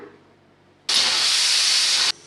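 A pressure cooker cooking rice lets off a loud, steady hiss of escaping steam that starts abruptly, holds for over a second, then cuts off to a faint background.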